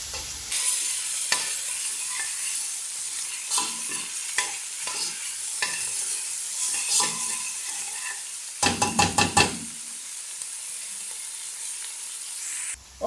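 Chopped onion sautés in a pan with a soft, continuous sizzle, broken by scraping stirs and a quick burst of clinking utensil strokes near the end.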